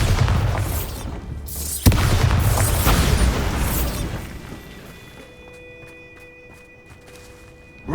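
Bombarda spell blasts in the Hogwarts Legacy video game: a loud booming burst with a sharp crack near the middle, rumbling debris that fades, then quieter ringing tones and ticks.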